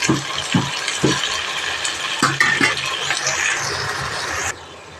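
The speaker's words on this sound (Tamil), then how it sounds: "தக்காளியை கொஞ்சம் நல்லா வதக்கி விட்டுக்குவோம்" Tomatoes sizzle in a pan while a utensil repeatedly stirs and scrapes them, with soft rhythmic knocks near the start.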